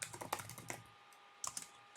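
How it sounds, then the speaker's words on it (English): Quick bursts of keystrokes on a computer keyboard as a name is typed into a signature field on an I-9 form, two clusters of close, crisp clicks separated by a short pause. "I'm just gonna type it here"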